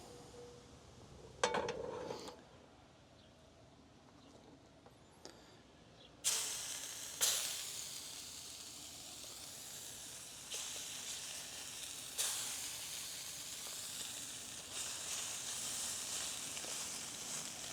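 Bluefin tuna sears in hot olive oil in a cast iron pan on a boat, a steady close hiss with sharp bursts of sizzle as pieces hit the pan and are moved.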